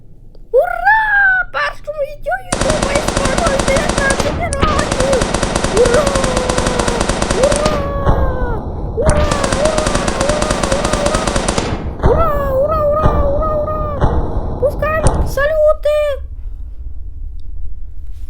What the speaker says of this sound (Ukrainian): феєрверки зараз будемо запускати